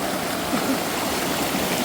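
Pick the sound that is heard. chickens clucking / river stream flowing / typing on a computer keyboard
river stream flowing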